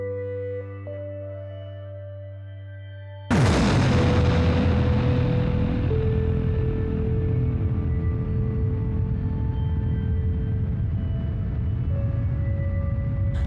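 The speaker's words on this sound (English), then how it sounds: "We are in space and streaming a Type 2 supernova explosion directly on the TV." A Type 2 supernova explosion in a space virtual reality animation, a sudden loud boom that bursts out of a steady tonal hum and settles into a long, dense rumbling roar that keeps going with sustained tones over it.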